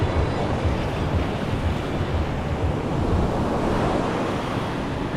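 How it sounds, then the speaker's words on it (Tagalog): Strong ocean waves crash and roar continuously at a surfing competition, loud and close, with wind buffeting the microphone. "Lakas ng alon."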